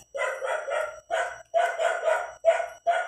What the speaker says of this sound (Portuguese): Pessoal, ignore o barulho de cachorro, tá?